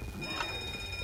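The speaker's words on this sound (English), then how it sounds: "Triggered the alarm." An alarm going off in the Killing Floor video game, heard as a thin, steady high-pitched tone over a low rumbling background, fairly quiet, with no voices over it.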